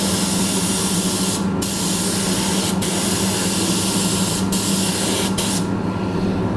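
Steady close spray-gun hiss laying a second coat onto a repaired cracked bumper on a Skoda, continuous and loud with a few brief dips in flow.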